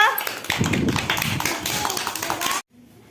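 Children clap their hands together in a room, a fast scattered burst of many claps mixed with voices that stops abruptly into silence.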